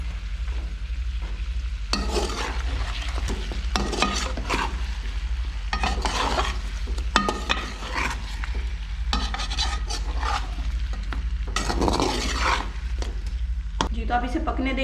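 A spoon scrapes and stirs chicken karahi in a pan while spices sizzle steadily underneath, in repeated stirring bursts with brief pauses, with a low constant hum beneath.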